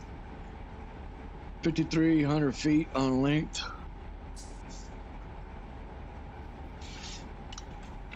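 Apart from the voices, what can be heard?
freight train running in Run8 train simulator video game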